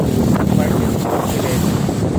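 Strong typhoon wind in Pampanga, Philippines, buffets the microphone in a constant, heavy roar for the whole moment, with no voices.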